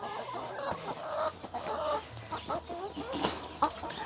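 Chickens on a cage-free backyard poultry farm in Cebu cluck and chatter close by, a busy overlapping flock with short squawks and occasional louder calls over faint outdoor background.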